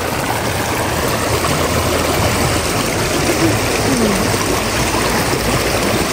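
A stream in the Nepali countryside on a cold day rushes in a loud, steady broadband wash of flowing water. It stays close and constant throughout, with no voices.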